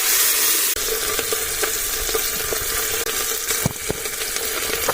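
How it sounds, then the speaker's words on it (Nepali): Tomatoes and green chilies fry in oil in a home kitchen pan, sizzling with a steady crackling hiss, punctuated by occasional sharp clicks and stirring knocks of a utensil, close and continuous with no talking. "टमाटर, खोर्सानी मिठाले भुटेर चाहिँ"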